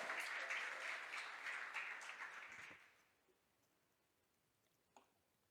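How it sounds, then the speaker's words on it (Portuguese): Church congregation clapping in praise during a Portuguese sermon, a fairly faint, steady round of applause that fades out after about three seconds, leaving near silence. "Você pode aplaudir o Senhor"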